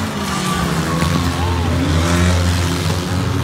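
Mini stock race cars roar around the Abbotsford Agrifair track after the green flag, a loud continuous engine drone with rising and falling revs close by.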